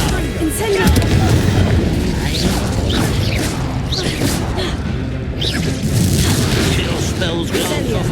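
Confringo fire-blast spell cast in Hogwarts Legacy, booming bursts and crashing impacts over dense game combat noise, loud and continuous throughout with layered explosive hits.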